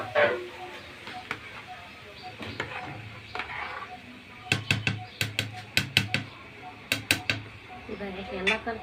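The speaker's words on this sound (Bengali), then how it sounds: "তো এখন আমি নাড়া দিয়ে দিচ্ছি।" A spoon stirring chicken khichuri in a pot over low heat, with sparse scrapes at first, then a run of loud, sharp metallic clanks against the pot rim, with a voice speaking in between.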